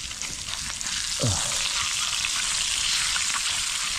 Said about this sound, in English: Nothing like some beaver burgers on the open fire